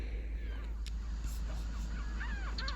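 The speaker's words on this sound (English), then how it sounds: "maybe add this herring gull to the mixer" Herring gull calls ring out as a few harsh, wailing cries over a steady low rumble of background noise, moderately loud and close.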